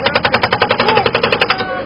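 An excavator's hydraulic breaker hammers in rapid, loud, evenly spaced blows, about ten per second, close by, and slows to a stop near the end.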